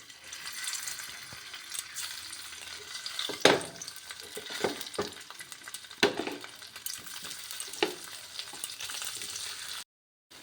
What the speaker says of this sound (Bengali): এবার আমি পনিরগুলিকে হালকা ভেজে নিচ্ছি